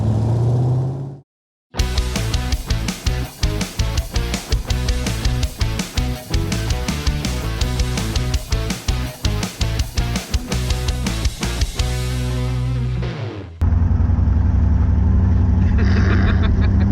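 An AC Cobra V8 roars loud and close as it drives on the road, with rapid rhythmic gear-change dips and revving bursts, then settles into a steadier, lower drone near the end.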